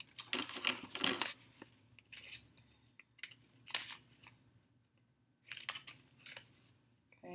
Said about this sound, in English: I'm going to cut one out here.